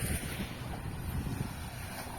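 Soft, steady sea breeze rushes past the microphone at night at a beach camp at Laiya, a faint, continuous low whoosh with gentle gusts and no voices.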